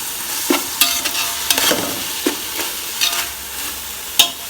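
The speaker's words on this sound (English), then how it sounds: "A tablespoon of soya sauce. And give this a good stir." A spoon scrapes and stirs chicken fried rice with soy sauce in a hot pan, several sharp scraping strokes at an irregular pace over a soft background sizzle, close and loud.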